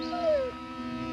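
Howling from wolves or stray dogs in the countryside, a single drawn-out wailing howl that slides downward and fades, heard faintly at a distance over a steady background hum.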